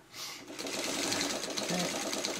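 A sewing machine runs stitching fabric coasters, starting after a brief pause and then whirring steadily with a rapid needle rhythm, close and clear.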